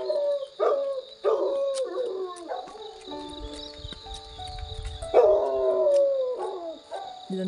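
Dogs near a resort in Sakleshpur give long, wavering howls that rise and fall, along with a few barks, heard from a moderate distance over a steady background hum.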